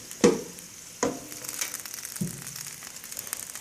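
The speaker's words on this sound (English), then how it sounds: "the peppers are very hot. You can still hear them sizzling." Hot oven-roasted peppers in a glass bowl crackle and sizzle faintly, with a few sharp pops and clinks near the start and a soft, steady hiss afterward.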